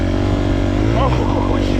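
A dirt bike engine revs under throttle, a steady, close motor drone with a brief voice rising over it partway through.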